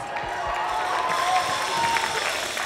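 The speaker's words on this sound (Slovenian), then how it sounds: "En aplavz!" Audience applause at a quiz show fills the space as a steady wash of clapping with a faint crowd murmur and a thin tonal whine over it.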